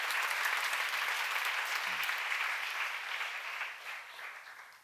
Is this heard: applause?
yes